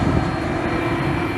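Qantas Airbus A330 jet engines during a night takeoff at Soekarno-Hatta airport, a loud, steady, broadband roar with no pauses.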